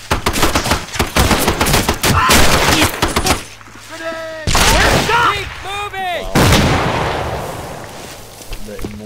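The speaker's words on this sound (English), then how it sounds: "That was 3 grenades right there." Grenade explosions and gunfire in a war video game featuring Japanese army forces, dense bursts of loud blasts and rattling shots with shouted voices and radio-style chatter in between.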